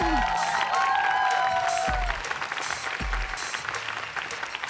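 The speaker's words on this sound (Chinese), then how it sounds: "再次把掌声送给黄义豪。" A studio audience applauds after a xiangsheng-style comedy performance on a variety show, a dense, steady burst of clapping with some cheering, fading slightly toward the end.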